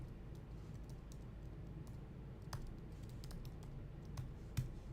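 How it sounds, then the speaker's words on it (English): Computer keyboard typing during a live data-analysis session: quiet, irregular clicks and bursts of keystrokes over a low steady hum, with no one speaking. "you're gonna see a lot of typing here"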